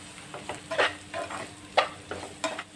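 A spoon stirs masala with garlic and coconut in hot oil, giving faint, irregular scrapes and soft sizzling in a quiet kitchen.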